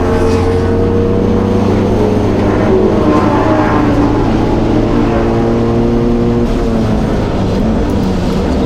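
GT3 and GT4 race cars at the GTRNZ OctoberFAST meeting roar down the front straight, loud overlapping engine drones with shifting pitches holding steady throughout.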